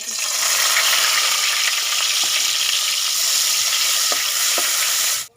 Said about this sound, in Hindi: लहसुन अदरक का पेस्ट जाएगा।